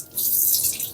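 Tap water running steadily at close range while indoor plant cuttings are rinsed under it, a bright continuous hiss and splash lasting about a second.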